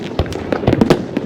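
Fireworks at a New Year 2025 celebration in Azerbaijan, a rapid burst of sharp bangs and crackling pops in quick succession, loud and fairly close.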